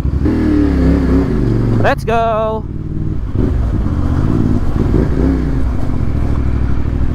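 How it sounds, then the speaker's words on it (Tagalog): A CF Moto 450 MT motorcycle running loud and close with a continuous engine drone and a brief rising rev, while someone speaks briefly partway through. "CF Moto 450 MT."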